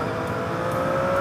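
Triumph Street Triple RS motorcycle engine on a road ride, a steady close-up drone with a high whistling tone held over wind rush, no speech.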